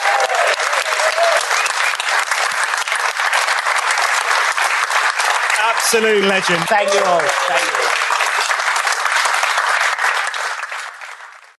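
Audience applause for a guest on a Paul Weller fan podcast fills the whole stretch as a loud, continuous wash of clapping, while someone briefly speaks over it midway before it fades out at the end.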